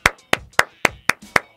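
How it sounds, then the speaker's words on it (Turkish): Six sharp hand claps at a steady, brisk rhythm, close and loud, with short silences between them. "Alkışlıyorum."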